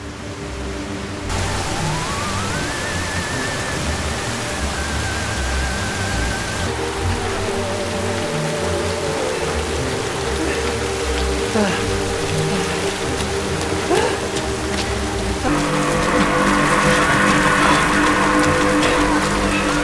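Heavy rain from the Korean film Parasite (2019) falls as a steady, dense wash of noise for the full length, with sustained musical tones layered over it and no talking.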